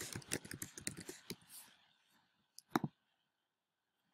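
Quiet, close clicks and taps of a computer mouse and keyboard while text is typed into a text box, a quick irregular burst at the start followed by a couple of isolated clicks.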